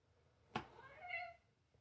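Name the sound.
cat meowing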